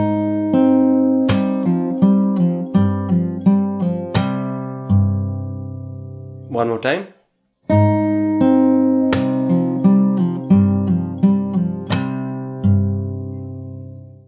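Fingerstyle acoustic guitar plays the opening of a song from the start, with plucked notes over a low bass line, a brief pause with a short spoken phrase midway, then the pattern resuming, close and clear.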